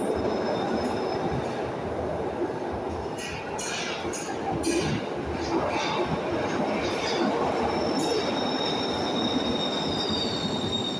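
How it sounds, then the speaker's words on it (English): A Glasgow Subway train pulls into the station with a loud, sustained rumble and high squealing wheels, steady throughout and heard close by on the platform. "And here comes our subway train arriving"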